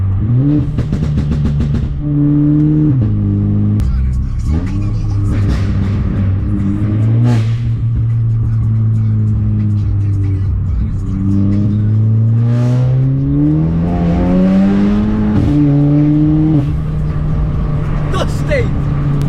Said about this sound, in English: The DSG shifts now are crazy quick, and the way it downshifts now is brutal.